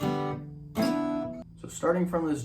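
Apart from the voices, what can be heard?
No distinct noise like a dog, phone or traffic.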